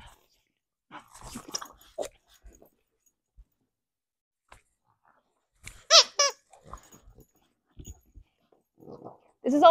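Dog during a training session, giving short high squeaks and brief whimpers between quiet gaps, close and clear, mixed with soft taps and a person talking intermittently.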